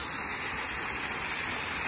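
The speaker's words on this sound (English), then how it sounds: "This is the Day's Dam waterfall." Day's Dam waterfall in Lorain Metro Parks gives a steady, broad rush of falling water, close and continuous with no breaks.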